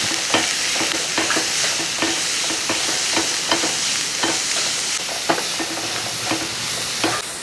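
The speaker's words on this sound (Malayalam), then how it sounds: "ഇനി എല്ലാം കൂടെ ഒന്ന് ഇളക്കി ഒന്ന് വഴറ്റിയെടുത്താൽ മതി" Chopped cabbage with curry leaves being sautéed, a constant frying hiss with repeated rhythmic spatula strokes against the pan, close and steady, with no voices.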